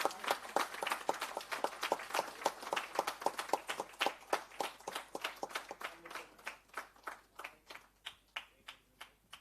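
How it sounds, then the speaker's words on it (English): Audience applause at a voice technology challenge award event at IISc Bangalore, dense clapping at first that thins into scattered, slower claps toward the end, steady and fairly distant in a hall. "Huge round of applause, guys."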